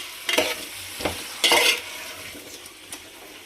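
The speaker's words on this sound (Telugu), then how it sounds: "సొరకాయ, మునక్కాయ కూడా వేసుకొని ఒకసారి మంచిగా కలబెట్టుకోండి" Ladle stirring bottle gourd and drumstick pieces in a sambar pot, three or four short scraping swishes with brief pauses between, close and fairly soft, no voices.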